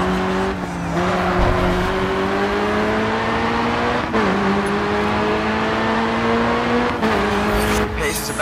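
A Volkswagen Golf R hot hatch racing in GRID 2 around Barcelona's Fountain Loop, its engine droning loud and steady with rising pitch through the gears, and brief shifts and tire noise.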